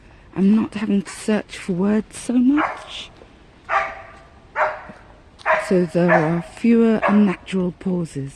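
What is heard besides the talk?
dog barking at a squirrel in the trees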